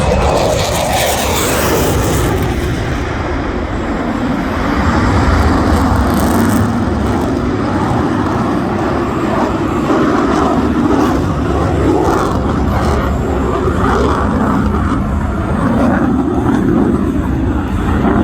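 A RAAF F/A-18 Classic Hornet jet makes a display pass with afterburner at an air show, producing a loud, continuous roar that fills the whole stretch with no letup.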